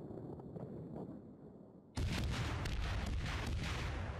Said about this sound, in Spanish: el sonido de los cañones también está guapo